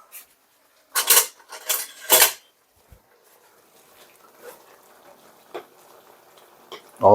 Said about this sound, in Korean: 뚜껑을 한번 열어보겠습니다.